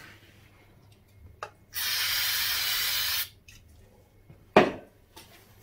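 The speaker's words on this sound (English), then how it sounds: "we'll get a rag and give it a quick whiz round some brake cleaner" Brake cleaner sprayed from an aerosol can onto a Suzuki DR200 rear wheel bearing: one hissing burst of about a second and a half, with a few faint clicks and knocks before and after.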